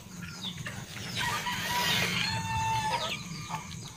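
Several chickens cluck and squawk close by, one loud crowing call rising in the middle, with scattered clucks around it.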